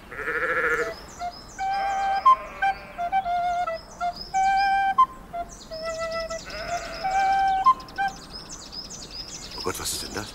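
Sheep bleat repeatedly in a pastoral radio-drama scene, the calls bunched into several short bursts over a bed of other animal-like cries and birdsong, fairly close and clear, with no talking over them.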